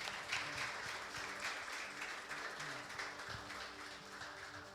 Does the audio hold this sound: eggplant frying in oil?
no